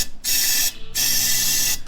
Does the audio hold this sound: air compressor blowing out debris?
yes